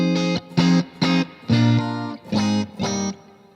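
Clean electric guitar tone played as a blues rock phrase: a series of distinct sustained notes and chords, each ringing briefly with clear harmonics before stopping, close and fairly loud with no talking.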